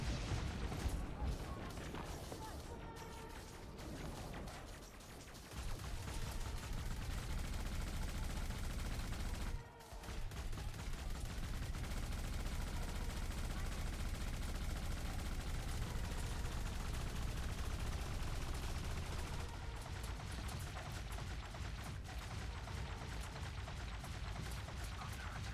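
Ground defense guns firing continuously in a combat flight video game, a dense, loud roar of rapid gunfire and booms that barely lets up, with brief dips in intensity.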